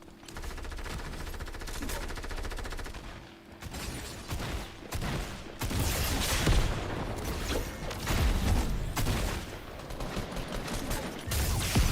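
Quad launcher fire in Fortnite: a dense barrage of loud explosive blasts and rapid gunfire in overlapping bursts, with booming impacts throughout and no speech.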